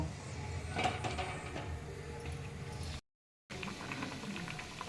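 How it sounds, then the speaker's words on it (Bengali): Water comes to a steady rolling boil in a wok on a gas stove, about to receive pieces of bael fruit; a continuous bubbling roar with soft patter, cut by a brief gap of silence. "এবারে আমি কড়াতে গরম জল বসিয়ে দিচ্ছি জল ফুটছে এবারে আমি বেলগুলো দিয়ে দিচ্ছি"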